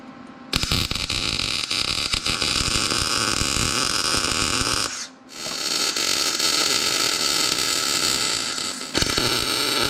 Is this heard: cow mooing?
no